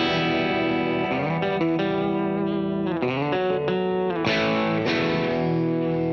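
Electric guitar played through a CTC Sidekick Jr. pedal set to hall reverb for an 80s tone: a steady run of sustained, effected notes and chord changes with a lush, washy tail, loud and continuous with no talking.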